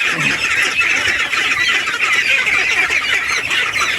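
A flock of farm geese honks continuously and loudly up close, a dense overlapping clamor of nasal calls with no pauses.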